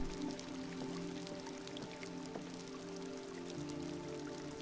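Light rain patters and splashes softly in a rainy scene from the video game Detroit: Become Human, a faint steady drizzle under a low background hum with no voices.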